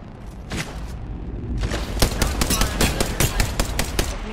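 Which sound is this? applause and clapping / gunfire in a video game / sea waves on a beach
gunfire in a video game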